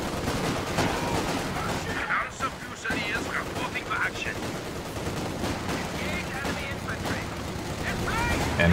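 Dense video game gunfire and explosions rattle through a Company of Heroes 2 four-versus-four battle against a heavily fortified enemy, with sustained machine-gun bursts and booms over several seconds while a player talks over the din.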